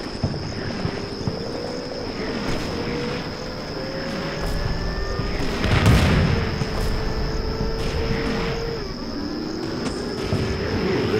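Artillery fire for effect in the wargame Combat Mission Shock Force: low distant booms and rumbles under a steady high insect-like whine, with one heavier impact midway and no talk.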